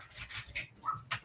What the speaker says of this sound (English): sorry, dogs have just gone off again.